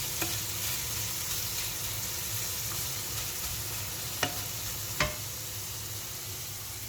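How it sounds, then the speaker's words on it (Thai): Garlic chicken frying in oil gives a steady, even sizzle throughout, broken by a few sharp clicks of a utensil against the pan, with no talking. "ก็ทอดไปเรื่อยๆนะครับจนกว่ามันจะสุก"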